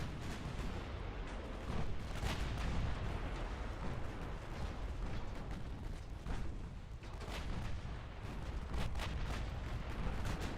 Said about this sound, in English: Already scoring some torpedo hits. Or torpedo detonations, I should say.